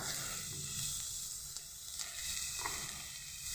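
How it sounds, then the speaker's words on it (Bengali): Chopped onions and minced mutton frying in a pan for a samosa filling give a quiet, steady sizzle with a soft hiss that runs evenly throughout, with no voices. "পেঁয়াজটা খুব বেশি লাল করবো না ভাজাটা তা এইভাবে অল্প একটু ভাজা হবে তার মধ্যে দিয়ে দেব কিমাটা"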